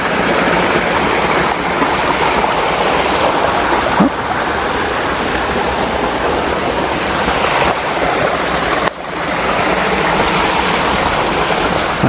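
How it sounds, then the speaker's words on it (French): A small stream near Thiézac with a strong flow rushes steadily, a loud and continuous broadband water roar, close by, with no voices heard. "Alors on vient d'en face de ce tout petit ruisseau là."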